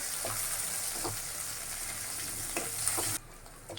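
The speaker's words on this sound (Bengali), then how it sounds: "এটাকে এখন আমি একটু ভেজে নেব" Minced garlic and green chillies frying in a pan, a steady close sizzle with a few light stirring taps, the sizzle dropping abruptly near the end; no talk.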